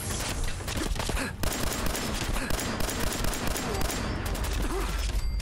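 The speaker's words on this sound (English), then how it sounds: "Oh my god, I'm getting shot out from below me." Rapid, continuous gunfire fills a Fallout 4 fight, a dense fusillade of shots with bursts overlapping almost without pause, loud throughout.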